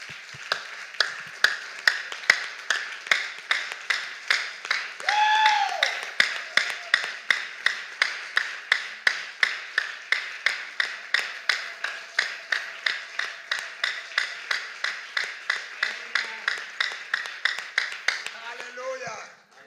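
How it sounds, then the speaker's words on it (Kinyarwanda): A church congregation claps in a steady, rhythmic beat for almost twenty seconds, sharp regular claps with brief vocal sounds between them. "We clap for them as well."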